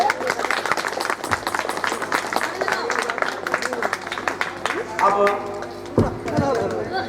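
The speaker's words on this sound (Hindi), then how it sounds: "आप लोग ताली बजाइए भैया।" An audience at a live Hindu religious katha gathering claps for the Pandit, a dense patter of hands close by with voices talking over it throughout.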